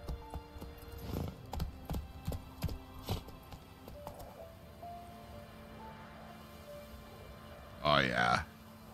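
Roach the horse trots and gallops in The Witcher 3, a run of distinct hoofbeats thudding near over the first few seconds before easing into quieter ambience, with a voice briefly calling out near the end.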